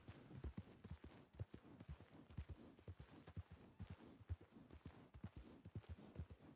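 Horse hooves clip-clop in the video game Red Dead Redemption, a steady rhythmic run of soft, muffled hoof beats at a moderate pace with no talking.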